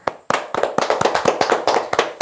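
A small group at a birthday celebration claps lightly in a quick, steady rhythm of distinct close claps, with no talking.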